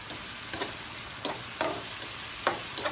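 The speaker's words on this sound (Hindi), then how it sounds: "खूब अच्छे से इसकी मिक्सिंग करके इसको पका लेंगे।" Chicken stirred and cooking in a pan for white sauce pasta, seasoned with black pepper, a steady soft sizzle broken by a few sharp scrapes of the spoon at irregular intervals, close and moderately quiet, with no talking.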